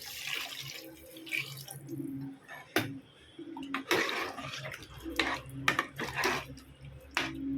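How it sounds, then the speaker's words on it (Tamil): Water poured from a small vessel into a pot of beef gravy being cooked, splashing and trickling in short bursts with clinks of utensils, fairly close. "இப்போது 1 சொம்பு தண்ணி அளவு நான் ஊற்றிக்கிறேன்."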